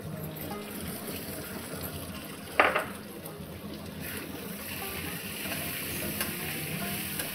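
Chopped coriander stems sizzle in a hot pan of oil while a spoon stirs them, a steady frying hiss with one sharp scrape of the utensil partway through.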